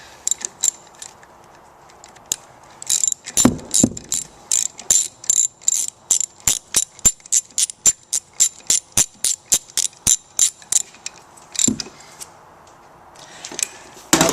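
A ratchet wrench clicks in a rapid, even series while snugging the impeller nut on an Armstrong vertical in-line pump, crisp and close, with a few louder clanks at the start and end.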